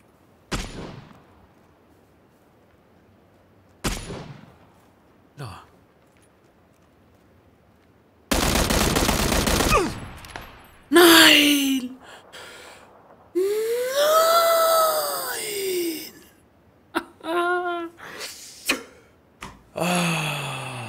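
Scattered gunfire in PlayerUnknown's Battlegrounds arrives as separate sharp shots and short bursts, some near and loud, others fainter, broken by stretches of near silence.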